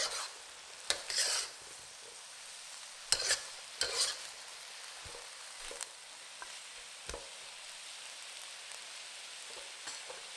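Ground meat and potato pieces sizzle gently in a frying pan while a utensil stirs and scrapes through them in several short bursts over a soft, steady crackle.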